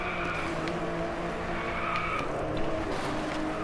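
Tires skid as a car drifts through a corner in the Driveclub racing game on PS4, on a Japan track, a steady engine drone with a squealing slide that stays loud and continuous throughout.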